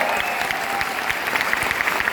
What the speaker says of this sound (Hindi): एक बार जोरदार तालियां हमारे गौतम वाले साहब के लिए